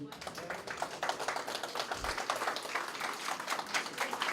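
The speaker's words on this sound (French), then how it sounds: "On l'applaudit, Marcel." Dense, steady applause from a press conference audience for Marcel, part of the Ultime Défi Jacques Desmeules event, with many hands clapping close by at an even level throughout.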